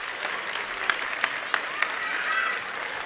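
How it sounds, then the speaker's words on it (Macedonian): Audience at a children's song festival clapping steadily, a dense wash of applause with a few sharper claps standing out, moderately loud and without talk. "Аплаузи за вас, драги наши гости."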